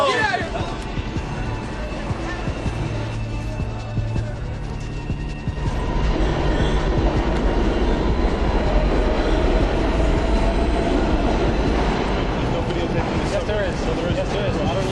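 Subway train rumbling and clattering through an underground station, quieter early on and then a louder, denser roar with wheel squeal and rail noise, with voices underneath.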